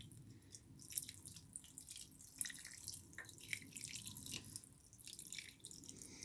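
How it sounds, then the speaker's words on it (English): A watering can gently soaks cotton wool, producing quiet, irregular patters and trickles of water that come in short bursts, faint and close up. "my watering can, and you want to just give it a gentle soak with water"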